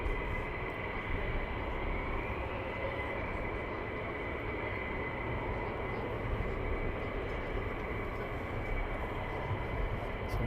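Military jets taxi at RAF Lakenheath air base, a continuous broad engine roar and rumble that holds steady at a moderate distance for the whole stretch, with no talk over it.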